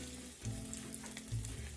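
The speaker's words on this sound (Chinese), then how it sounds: "鱼一块块在油里翻个面" Pieces of fish sizzling steadily in hot oil in a home kitchen, with a couple of soft scraping stirs as they are turned over, close and moderately quiet.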